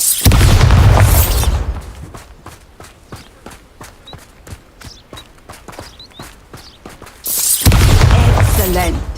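Bombarda spell explosions in Hogwarts Legacy boom loudly at the start and again near the end. In between, a quieter stretch of footsteps patters steadily.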